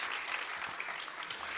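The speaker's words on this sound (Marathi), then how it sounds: "त्या दोघांसाठी एकदा जोरदार टाळ्या झाल्या पाहिजेत" Audience applause at a live Natyasangeet (Marathi stage music) performance, honoring two accompanists. Dense, steady clapping from a seated crowd continues throughout, with no voices over it.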